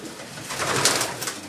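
Pigeons coo softly in a loft, a short, gentle burbling call close by with faint background noise and no talk.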